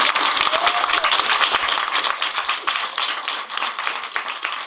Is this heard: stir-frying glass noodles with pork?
no